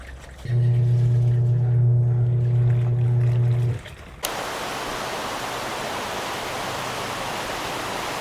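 Steady broadband hiss of heavy rain, loud and continuous, following a few seconds of low humming engine-like drone that cuts off abruptly.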